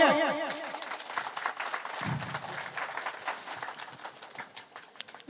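An audience claps at an Independence Day ceremony held by a welfare foundation. The dense, steady applause runs for several seconds, and a voice is heard briefly over its opening.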